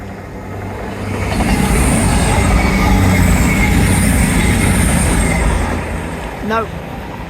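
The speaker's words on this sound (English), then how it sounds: "will this be a happy train?" A train rolls past along a seawall, its steady rumble and rhythmic wheel clatter swelling and fading over several seconds, ending with a short wheel squeal.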